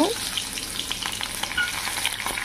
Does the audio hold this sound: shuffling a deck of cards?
no